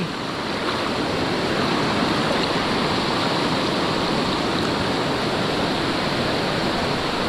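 Rushing floodwater surges through a river in a sudden rise, a loud, steady broadband roar that fills the whole span with no pause.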